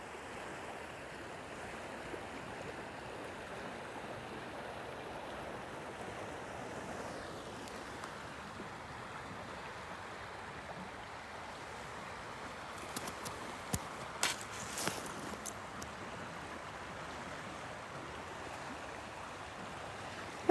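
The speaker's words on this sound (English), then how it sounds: "I'm loving the sound of the water today." River water flowing steadily in a broad, soft wash of rushing sound outdoors, continuous and moderately loud, with a few brief knocks partway through and no talk.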